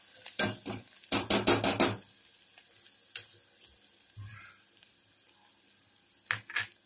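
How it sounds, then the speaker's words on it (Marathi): Spice and paste mixture with turmeric and asafoetida being stirred in a pan for a cowpea curry, a rapid cluster of scraping spoon strokes followed by a few scattered scrapes and a soft sizzle, close and fairly quiet. "आता हे मिश्रण पुन्हा एकदा व्यवस्थित एकजीव करून घेऊया"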